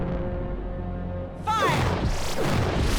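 Ship's weapons fire in a Farscape sci-fi battle, a sudden loud whooshing blast with descending sweeps and rumbling booms that cuts in after a low droning hum.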